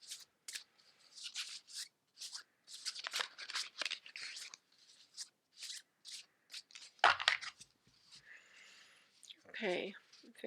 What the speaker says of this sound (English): I'm fanning out the cards now and just feeling through the cards for any energy that may be calling to me.